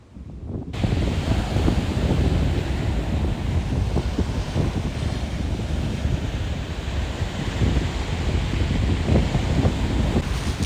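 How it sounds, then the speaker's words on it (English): Ocean waves breaking on West Beach at Deception Pass State Park, a continuous broad wash of surf mixed with wind buffeting the microphone, steady and fairly loud with no voices. "And we're gonna go check out the waves."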